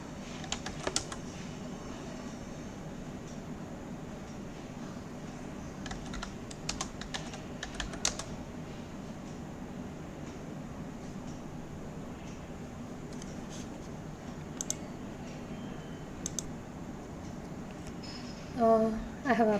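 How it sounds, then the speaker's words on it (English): Typing on a computer keyboard, with scattered clusters of key clicks and taps close by over a steady low background hum, the keystrokes coming in short bursts with pauses. "Type su, press enter."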